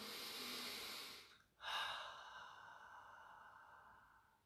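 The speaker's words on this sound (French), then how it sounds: "on ferme les yeux, on prend une grande inspiration" A slow, deep breath during a meditation session: a long soft exhale, a brief pause, then a full airy inhale that fades out gradually, close and quiet, with no speech.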